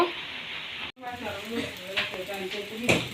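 Food sizzles steadily in a hot pan, a close, continuous crackle with a brief cut near the start and a few louder spits.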